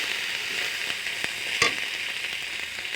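Spices with turmeric and salt fry in hot oil, a steady soft sizzle with a few faint stirring scrapes and one sharper clink, no talk.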